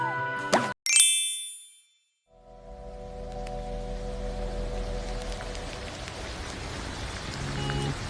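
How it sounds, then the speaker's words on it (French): In the Adopt Me video game, a red bone toy gives two quick bright squeaky dings up front, then a soft pattering, rain-like game ambience with faint chimes carries on underneath. "ils vont automatiquement vous fournir un os rouge comme ça. Il fait également un bruit très mignon"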